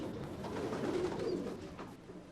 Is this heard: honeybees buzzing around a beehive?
no